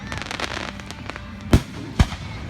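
Two sharp, booming firework blasts land about half a second apart over a crackling background, near and loud.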